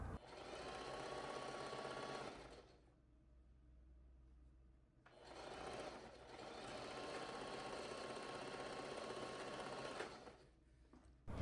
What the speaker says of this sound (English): Now we're switching to a zigzag stitch, and we're going to sew the horsehair closed.